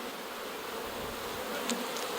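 A thick, even drone of many honeybees hovers around a hive, close and steady, with one brief brighter pass from a single bee and no voices.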